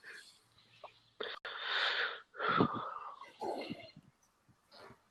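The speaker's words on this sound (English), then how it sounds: "Heavy breathing." Heavy, rasping breaths close to the microphone, several loud wheezy inhales and exhales in an uneven rhythm with short pauses, no talking.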